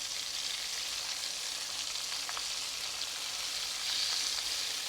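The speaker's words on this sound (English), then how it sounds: "We'll fry the prawns until the crust has formed." Prawns fry in hot oil in a wok or pan for a crispy ginger soy shrimp dish, giving a steady, dense sizzle that holds at an even level throughout with a slight swell near the end, and no voices.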